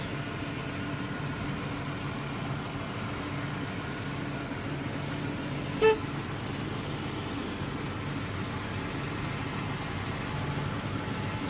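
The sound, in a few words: car with 3.6 engine running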